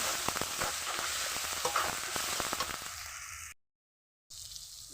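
Fish curry frying in a pan with salt and turmeric, a steady close sizzle broken by scraping stirs, then a brief silent gap before the sizzle resumes.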